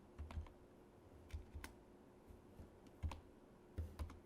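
Sparse computer keyboard keystrokes as code is typed, short clustered clicks separated by pauses, quiet and close with no talking.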